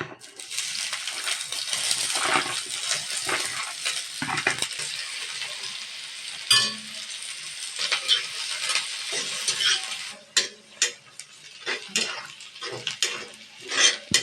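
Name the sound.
onion sautéing in oil in a hot pan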